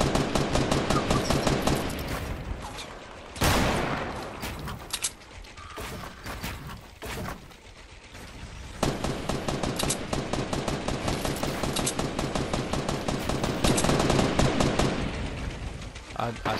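Gunfire in the Fortnite battle royale game, with a hunting rifle used for sniping: dense runs of rapid shots and mechanical clatter fill most of the stretch, broken by a few sharper isolated cracks, with a voice talking over the action.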